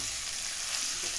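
Elephant foot yam fries with spices in oil, a short, steady, close sizzling hiss with no talking.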